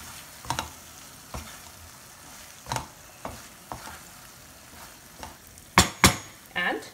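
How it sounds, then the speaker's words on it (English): Paneer bhurji with ghee and paneer cubes is gently stirred in a pan, a soft frying sizzle broken by a series of spaced spatula scrapes and taps, ending in a few louder clinks. "Mix it very gently."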